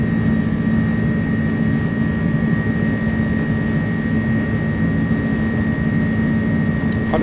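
Airbus A300 jet engines with PW engines spool at takeoff power in a flight simulator, a loud, continuous roar with a steady whine layered over broad low rumble throughout.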